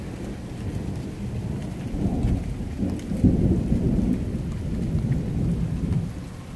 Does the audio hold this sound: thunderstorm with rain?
yes